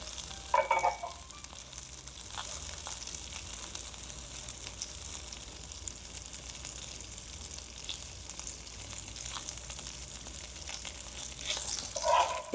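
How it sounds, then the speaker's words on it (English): Birria tacos fry in oil rendered from the meat and cheese, giving a steady, quiet sizzle and crackle throughout, with a few brief louder spatters near the start and end. "You can just hear some of that oil from the meat, some of the oil from the cheese just sizzling that taco"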